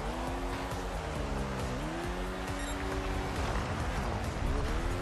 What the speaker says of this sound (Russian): Да он плохо крутится, этот мотоцикл.